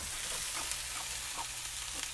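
Diced tomatoes, peppers, onions and mushrooms sizzle in a hot pan with no oil, a steady close crackle with small pops and no voices.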